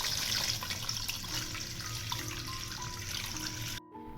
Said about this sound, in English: Now I'm gonna add water inside, enough to fill